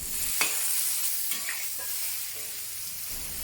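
Blanched lotus root and carrots are stir-fried with hydrated wood ear mushrooms over high heat, a soft continuous sizzle with a few sharp scraping clinks from the spatula against the wok.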